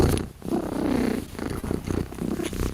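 A cat purring steadily and close up, a continuous rumbling rhythm with slight swells, alone with no talking.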